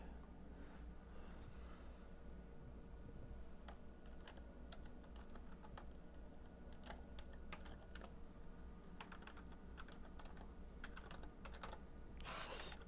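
Computer keyboard typing while setting up a Windows XP installation, a steady run of close, crisp key clicks continuing throughout with brief pauses and a denser burst near the end.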